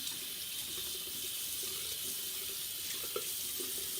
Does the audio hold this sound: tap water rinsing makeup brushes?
yes